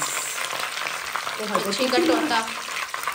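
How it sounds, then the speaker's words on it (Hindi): Fish frying in a pan gives a dense, close sizzle with bubbling crackle and some utensil stirring, continuous across a few seconds with no talk over it. "ये फ़िश हो रही है फ्राई हमारी"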